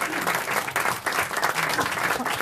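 Audience applause on a French radio comedy panel show, a dense steady patter of many hands clapping throughout, with faint voices mixed in underneath.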